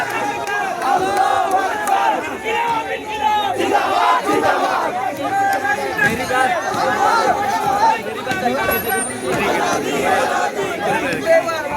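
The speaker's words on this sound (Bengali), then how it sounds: "স্লোগান চলছে" A large crowd of students and citizens at a street protest chants the slogan "Azadi" in loud, rhythmic unison, voices surging together over ongoing crowd noise throughout.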